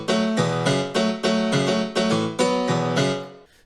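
Stereo-widened piano for a progressive house piano drop plays bright, full chords struck in a steady rhythmic pattern of about eight stabs, each decaying slightly before the next, ending with a short fade, with no voices.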